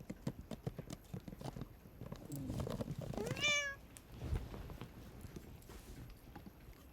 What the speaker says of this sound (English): She said, meow, when I picked her up.